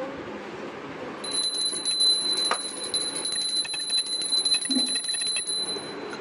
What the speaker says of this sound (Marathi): ह्याला वाजून दे घंटी